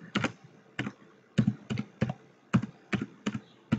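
Typing on a computer keyboard while entering text into an MS Excel chart, about a dozen crisp close key taps in uneven quick clusters, loud and clear with no voice over them.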